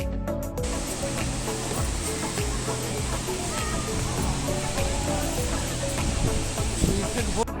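Dassam Falls waterfall heard from a viewpoint, a steady, dense rushing roar of falling water filling the whole span, with people's voices and chatter mixed in.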